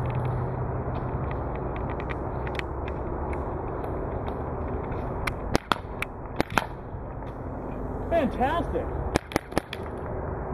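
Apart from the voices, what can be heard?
Planet Eclipse Etek 3 paintball marker firing rate of fire test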